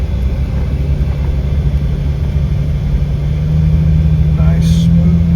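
A Jeep Wrangler TJ engine idles just under 1,000 RPM, a steady low rumble heard close from inside the vehicle, swelling slightly toward the end.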